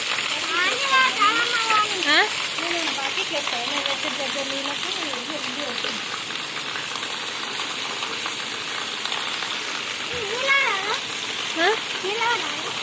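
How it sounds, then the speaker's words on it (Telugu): Steady, dense hiss of heavy rain pouring down throughout, with voices talking over it. "ఫుల్ వాన వస్తుంది రావు చూడు"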